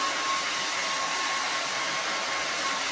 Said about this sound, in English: This is a hair dryer because we forgot the heat gun at our warehouse.